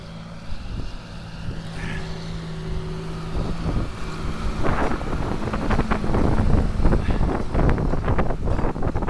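Steady cold winter wind buffeting the microphone outdoors on a field during ploughing, a low rushing roar that grows stronger and gustier toward the end, with no voices.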